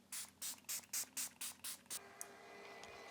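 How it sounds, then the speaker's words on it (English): Makeup setting spray, a makeup fixer, is pumped from a bottle in eight quick even hissing bursts, close and fairly quiet, followed by a small click and soft rustling. "I sprayed on this setting spray, which is more like a makeup fixer."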